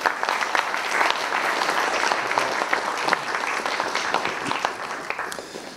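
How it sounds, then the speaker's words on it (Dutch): An audience applauds as astronomy speaker Govert Schilling is introduced at a stage evening event. Dense clapping from a full room keeps up loud and steady for several seconds, then tapers slightly toward the end. "Mag ik een enthousiast applaus voor Govert Schilling."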